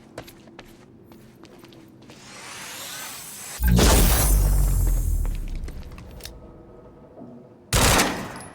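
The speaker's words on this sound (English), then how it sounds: "we just heard an explosion near the harvesting perimeter" Gunfire and explosions from the video game Quantum Break: quieter clatter and rumble build up, then a loud, heavy blast bursts in midway, and a second sharp blast hits near the end.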